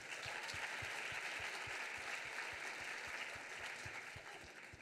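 Audience applauding students at a French commercial innovation awards ceremony; dense, steady applause fills the room throughout with a regular low thump beneath, tapering slightly at the end.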